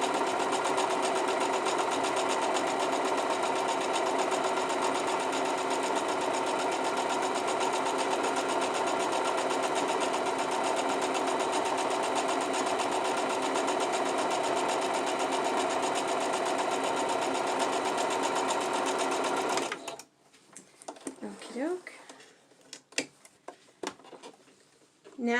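A sewing machine stitches quilt seams in one steady, loud, continuous run for about twenty seconds, then stops, leaving a few faint handling clicks and rustles.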